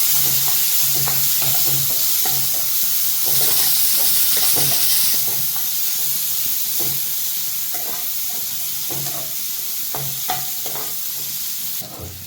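Two medium onions for butter chicken masala fry in a pan, with a loud, steady sizzle and hiss under frequent rhythmic scraping of a stirring spoon.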